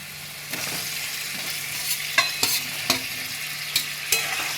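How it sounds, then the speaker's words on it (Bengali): Fried potatoes being stirred into spices in a pan, with a steady sizzle under a series of scraping spatula strokes at irregular intervals, close by and with no voices. "আলুগুলো দিয়ে এবার একটু ভালো করে নাড়াচাড়া করে নেব কষিয়ে নেব একটু"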